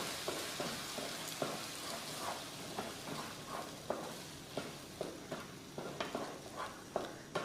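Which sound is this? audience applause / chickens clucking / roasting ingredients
roasting ingredients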